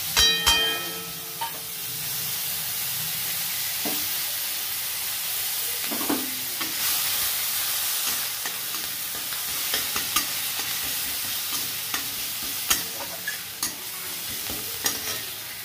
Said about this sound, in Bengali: এবারে এই তেলে একটু কালো জিরে দিয়ে দিলাম, আদা একসাথেই দিয়ে দিলাম, রসুন কুচিটাও দিয়ে দিলাম।